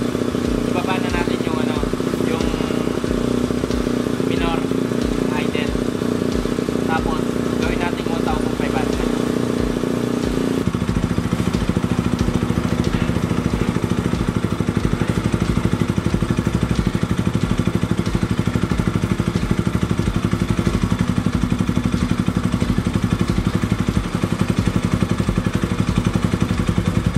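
A Bajaj Rouser NS200 motorcycle engine hums steadily during carburetor tuning, held at raised revs before dropping to a lower idle about halfway through, with someone talking over it.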